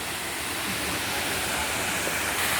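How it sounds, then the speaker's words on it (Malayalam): Soochipara waterfall in Wayanad, water pouring out of a huge rock gorge, makes a loud, unbroken broadband roar that fills the whole stretch without pause or voices. "നമ്മൾ ആ വെള്ളച്ചാട്ടത്തിൻ്റെ അടുത്തിലേക്ക് എത്തുകയാണ്."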